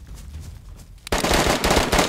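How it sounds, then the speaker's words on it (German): Loud, dense automatic gunfire erupts suddenly in the video game DayZ after a second of quieter ambient rumble, sustained rapid shots continuing to the end. "Folgt den Schüssen, folgt den Schüssen."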